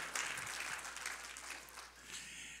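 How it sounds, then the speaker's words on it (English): Scattered applause from an audience at a live gospel church concert, a steady wash of clapping that is fairly faint and distant, holding for a few seconds with no voices over it. "Now you clap back there."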